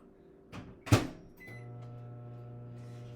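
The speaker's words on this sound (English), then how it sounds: "I'm going to put it in the microwave for 10 seconds." A microwave oven door clunks shut with a couple of clicks, then the oven's steady low electric hum begins and continues evenly, close by.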